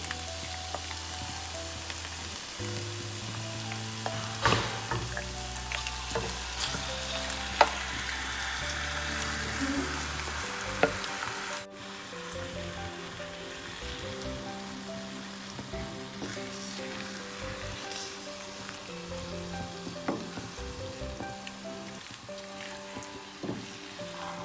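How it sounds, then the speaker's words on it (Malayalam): Marinated chicken sizzles in a pan of cooked-down tomato masala for a Kerala chicken curry, a long, even, rain-like hiss with occasional stirring clicks, under background music in the first half and alone afterward. "ഇനി നമുക്കിതിലേക്ക് ചിക്കൻ ചേർത്ത് കൊടുക്കാം."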